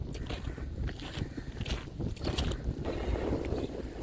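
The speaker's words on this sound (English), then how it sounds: "Oh, it got windy since we started." Gusty outdoor wind buffets the microphone with a constant loud, rumbling roar that rises and falls over a few seconds, and no one speaks.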